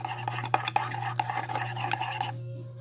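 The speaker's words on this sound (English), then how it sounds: "you're going to take your mixing tool and you're going to mix it" Soap slime stirred with a mixing tool, a run of wet scraping and squelching strokes in quick irregular rhythm, close up over a steady low hum, stopping abruptly near the end.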